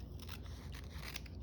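Scissors fussy cutting around a paper shape, a quick run of small, close, crisp snips in a fast irregular rhythm, with no voices.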